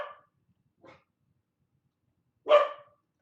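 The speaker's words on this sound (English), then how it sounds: "barking dogs." Dogs barking in three separate bursts, a sharp bark at the start, a softer one near the middle and a loud, close bark near the end, with near silence between them.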